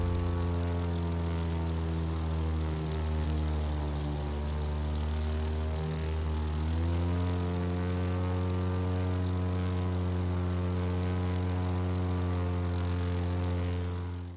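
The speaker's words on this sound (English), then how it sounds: "There's an airliner taking off. A few airliners flying out." Airliners take off and fly in The Crew 2 racing video game, producing a steady, loud, droning engine hum with strong low tones that holds for about fourteen seconds, shifting slightly in pitch midway, with no talking.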